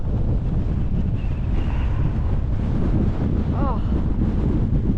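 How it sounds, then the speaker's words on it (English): Strong wind on Lingmoor Fell in the Lake District buffets the microphone in a constant loud, rough roar for the whole stretch, with a faint voice briefly under it. "Oh, it's savage, this wind."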